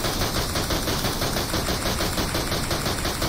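In PUBG Mobile, four guns fire celebratory rounds together, a dense, loud, nonstop automatic rattle of gunfire lasting the whole stretch, with no talking.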